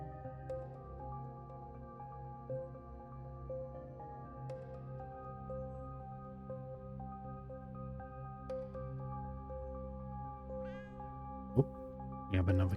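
Soft, drawn-out video game cat meows carry on quietly in a steady loop, with a brief sharper cry and a squelchy sound near the end.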